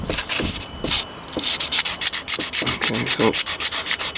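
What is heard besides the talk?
sanding Audi TT rocker cover with sandpaper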